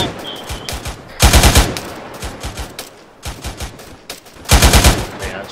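Rapid automatic gunfire in a military video game, loud close bursts alternating with quieter scattered shots and distant fire, with no talk over it.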